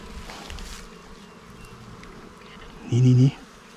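Giant honey bees (Apis dorsata) hum and buzz around their nest outdoors, a soft continuous drone with a louder buzzing pass near the end.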